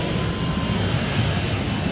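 A jet engine on a jet-powered pickup truck at a 1995 Chevy thrill show runs at about a quarter of its capacity, giving a loud, steady, close roar with heavy low rumble and no break.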